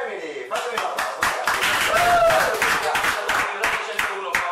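Audience applause for the Reggae Zone Family on an Italian radio show, a dense burst of clapping from a live crowd that fills the clip, with talk over it.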